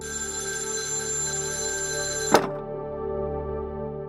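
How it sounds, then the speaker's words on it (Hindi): A telephone ringing with a steady electronic tone that is cut off abruptly by a single thunk partway through, followed by near silence; no one speaks. "इस समय किसका फोन है भाई?"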